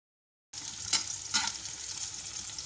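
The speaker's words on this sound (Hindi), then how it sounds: "तेल गरम हो गया है हमारा। इसके अंदर पहले मैंने 1 छोटी प्याज ली है, इसको डाल देंगे।" Onion, garlic and red chilies fry in hot oil, a steady close sizzle with a couple of brief louder bursts, and no talking.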